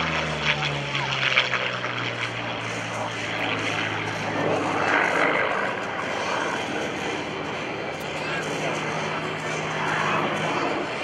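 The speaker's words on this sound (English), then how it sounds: "Diving in right now, a very unique airplane that dates back to World War II." Yakovlev Yak-9, a Russian-built World War II propeller fighter, diving at a military air show; a loud, sustained engine roar with a steady drone, swelling and shifting in pitch as it passes, under crowd-level background noise.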